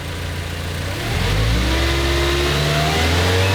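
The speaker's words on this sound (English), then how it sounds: "rev it up" A car engine with its charging cables just refitted after being found loose revs up with the blower and radio switched on, a steady idle swelling after a second into a louder, sustained rev that holds close and unbroken.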